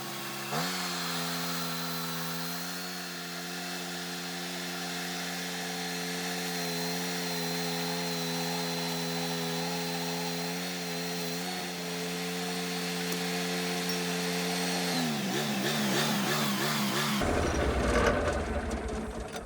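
A sawmill blade cuts through a short, fat sycamore log in a long, steady whining drone that shifts pitch near the end before the cut stops.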